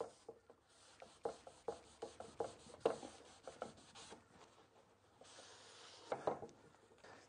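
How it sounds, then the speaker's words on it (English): Rhythmic rubbing and scrubbing strokes of a damp rag wiping excess glue off wood, close and fairly quiet, in uneven bursts with brief pauses. "we just wipe off the excess glue"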